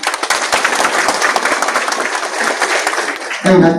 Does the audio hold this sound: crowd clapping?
yes